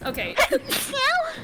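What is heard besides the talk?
person sneezing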